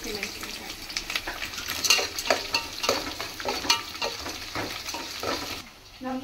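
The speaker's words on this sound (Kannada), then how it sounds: "ಕರಿಬೇವು ಮತ್ತು ಈರುಳ್ಳಿ ಹಾಕಿದ್ದೀನಿ" Curry leaves and onion frying in a pan for mango sambar: a continuous bright sizzle with scraping stirring strokes and light clinks, close and steady, no voices.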